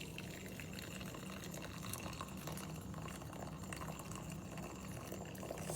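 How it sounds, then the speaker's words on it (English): Hot water poured slowly into a Bodum 17 oz borosilicate glass pour-over coffee maker, a faint, steady trickle and splash that runs unbroken throughout, with no voices. "and to pour the hot water"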